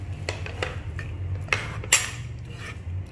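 Metal spoon clinks and scrapes against a pot of baby porridge in a few sharp knocks, over a steady low hum of cooking, close by.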